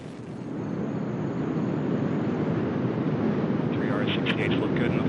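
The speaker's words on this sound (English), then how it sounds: "Liftoff of the mighty Delta IV Heavy rocket with NASA's Parker Solar Probe" Delta IV Heavy rocket lifting off carrying NASA's Parker Solar Probe, a broad, steady low roar that swells in the first second and then holds loud and continuous, with a faint commentator voice underneath.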